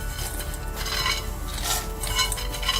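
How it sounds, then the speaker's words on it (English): Peanuts tipped into a pan already dusted with spice powders for masala peanuts, a brief close rattle and scraping of the nuts against the metal, with no talking. "So I'm going to add my peanuts on here."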